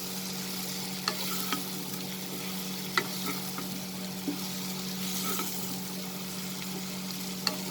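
Long beans being stirred through potatoes and spices in a frying pan, a steady low sizzle with occasional sharp scrapes and taps of the spoon against the pan.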